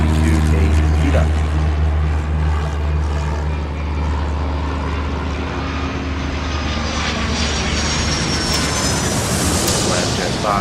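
A jet aircraft in the airport-control game Airport Madness rolls for takeoff on runway 26 right, a loud continuous engine roar with a low rumble and rising whine that holds steady throughout.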